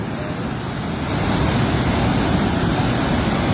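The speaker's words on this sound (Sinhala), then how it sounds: "කොච්චර වේගයක වතුර වැටෙන්නේ නැද්ද නේ?" Loud, continuous roar of fast-rushing water, a broad steady surge that swells slightly after the first second and holds strong.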